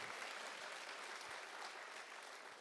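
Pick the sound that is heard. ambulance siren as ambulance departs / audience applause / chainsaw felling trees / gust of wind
audience applause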